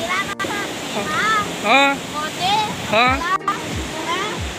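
A monsoon-swollen hill stream rushes near a waterfall, giving a steady broadband roar that runs beneath voices talking loudly close to the microphone.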